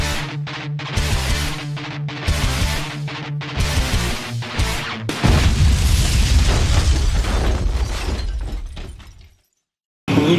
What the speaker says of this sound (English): We'll crash the first titanium bolt standing.